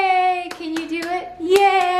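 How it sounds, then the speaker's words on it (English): A ten-month-old baby girl claps her hands, about six quick, sharp claps in an uneven rhythm close by, under a sustained sing-song adult voice. "She has also started clapping."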